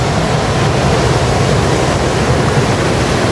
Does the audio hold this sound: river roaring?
yes